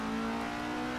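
A video-game Alfa Romeo GTA on the vintage Monza road course holds a steady, buzzing engine note at constant revs, quiet and unbroken for about a second, with no talking.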